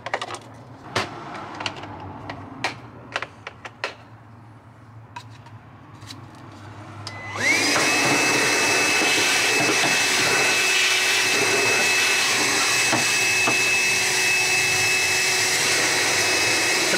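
A vacuum cleaner sucks mud out of a Land Cruiser Troop Carrier door. Scattered clicks and taps come first, then the motor starts with a loud, steady whine that runs to the end.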